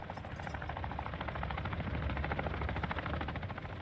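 Helicopter rotor chop from a military shooter game set in the DMZ, a loud steady rhythmic thudding that fills the whole span without pause.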